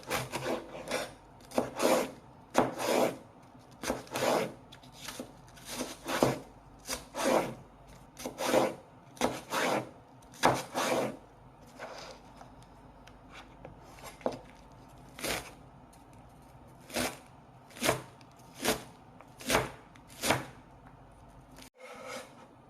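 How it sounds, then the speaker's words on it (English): A knife cuts a quarter piece of leek into small cubes on a cutting board, sounding as a long series of crisp, separate chops at an uneven pace, close and fairly quiet, with no talking. "So we're going to cut it into small cubes."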